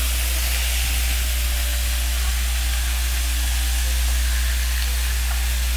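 Meat browning in a pot for German goulash, seasoned with pepper, gives a steady broadband sizzle and hiss that runs unbroken and fairly loud, close up, with no talking over it.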